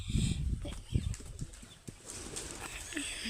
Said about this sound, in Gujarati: જુઓ અંદરથી કબૂતર ઉડે છે